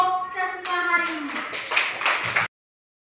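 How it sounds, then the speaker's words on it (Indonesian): A classroom of children claps together for a few seconds, loose bursts of hand claps rising after a stretch of voices and ending abruptly. "Kita tepuk tangan dulu untuk kita semua hari ini."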